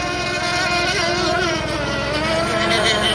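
An R/C hydroplane racing boat engine screams at high revs nearby, a loud, continuous buzzing whine with a slightly wavering pitch and no pauses.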